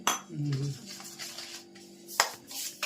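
Paan mukhwas mouth freshener ingredients, including fennel, are stirred together in a dish, giving soft clinks and scrapes of a utensil against the dish, close by and fairly quiet, with a sharper clink near the end.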